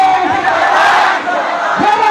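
A large crowd at a political rally in Baliyapur near Dhanbad shouts together in a loud, sustained roar that swells and holds for a couple of seconds, close and dominant.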